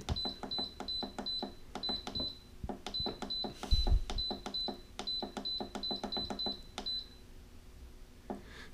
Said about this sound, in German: Und jetzt stellen wir den Timer ein